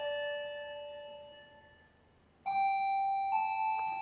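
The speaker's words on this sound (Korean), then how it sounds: "녹화 중인데 지금 종소리가 울리네요" A school bell or chime rings during a recorded Korean math lesson on polynomial multiplication, sustained electronic tones that fade and then return louder with a new pitch, with no talking over it.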